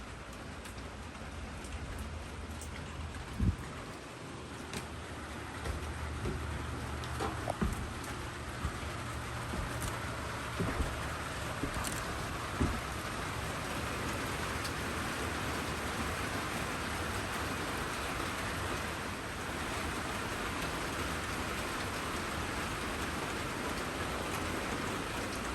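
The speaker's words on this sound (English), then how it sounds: "Good thing it's raining." Steady rain pours outside an abandoned mansion over two centuries old, a dense, even hiss that runs unbroken throughout with no voices.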